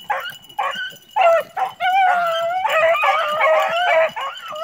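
Cocoa Star hunting dogs bark, yip and howl in overlapping bursts, with pitch sliding through drawn-out howls, loud and fairly close throughout.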